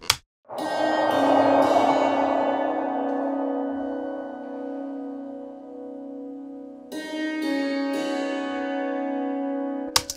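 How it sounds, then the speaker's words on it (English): Bright, ringing dulcimer strings recorded with a stereo JZ microphone, heavy reverb, struck and left to sustain in a wide, reverberant space. A second cluster of notes rings out midway, with a sharp tap at the end. "But the dulcimer with that stereo JZ microphone sounds like this."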